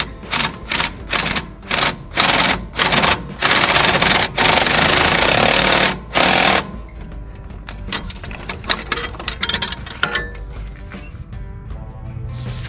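A new starter is being bolted onto a John Deere 3020 tractor, heard as rapid bursts of loud mechanical rattling from a power tool, fast and choppy. A longer steady run follows, then quieter clinks and shuffling.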